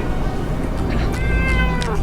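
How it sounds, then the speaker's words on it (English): A pet cat meows a few times over a dense, rumbling background noise, its wavering cries standing out clearly near the end. "My kitty cat's here."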